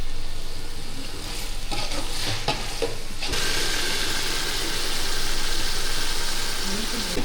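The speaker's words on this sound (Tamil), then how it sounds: "தக்காளி போட்டு நல்லா வதங்கிட்டு உப்புலாம் போட்டுருந்தோம்" Tomatoes sautéing in a pan for mushroom dum biryani, a close steady sizzle with a few stirring scrapes in the first half, then a broader louder frying hiss.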